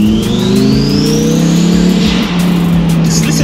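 A twin-turbo Lamborghini Huracan Performante engine revs hard and loud up close, its pitch climbing steadily with a stuttering, crackling edge and faint voices beneath.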